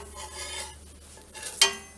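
A spatula slides under a gluten free tortilla in a hot pan and flips it, a soft scrape and rub over gentle sizzling, ending in one brief sharp clink; no voices.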